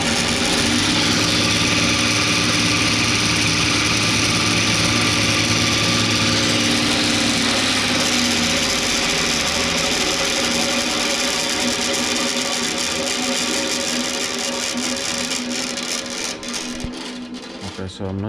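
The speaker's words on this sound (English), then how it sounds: "You can actually hear as the motor just takes off." An AC appliance motor on a speed control circuit whirs loudly and continuously, its pitch climbing as it spins up, then easing slightly toward the end.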